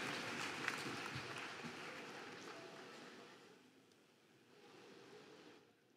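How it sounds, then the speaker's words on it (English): An audience at the National Legislators' Conference Bharat 2023 applauds to welcome the chief guest, a steady patter of many hands clapping that is faint and distant, easing off and then swelling again before it fades. "Please put your hands together and welcome with a big round of applause"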